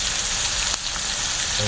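Soy sauce poured into a frying pan of saluyot leaves with a little broth, bringing a steady loud sizzle with a brief splash partway through, then a few light clanks at the end.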